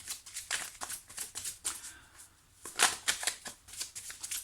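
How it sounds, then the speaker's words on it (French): A deck of tarot cards is handled close up, with quick papery riffles and soft flicks as a final card is drawn, a brief pause in the middle before more rapid shuffling. "Je vais juste prendre une dernière carte ici pour clôturer ce tirage."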